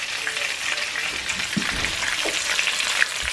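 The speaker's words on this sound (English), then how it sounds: "They're frying." Fried chicken sizzles in hot oil, a dense continuous crackle and hiss with a few soft knocks and stirring sounds, close and steady with no talk.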